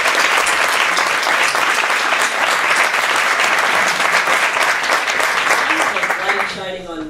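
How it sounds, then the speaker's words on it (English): Dense, sustained applause from an audience at a university diversity awards celebration, loud and steady for several seconds before tapering off as a voice begins. "Let's give another round of applause for"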